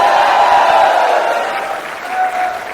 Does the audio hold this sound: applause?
yes